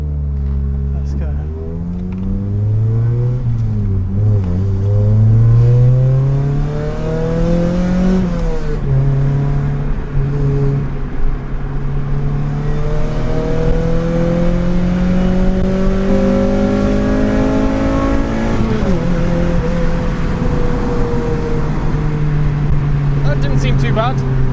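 A Honda Civic EP3 Type R with high mileage revs up while driving, its engine note climbing and falling through several gear pulls, loud and close inside the car.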